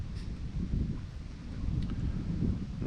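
Wind gusting into the microphone outdoors on a cold day at a feeder fishing competition, a steady low rumbling buffet that swells and fades, with no voices.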